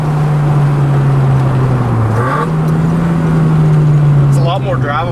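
A Honda EF car engine running after an MPFI fuel-injection swap, a close, steady low drone that dips and swells slightly with light revving, with a voice briefly heard near the end.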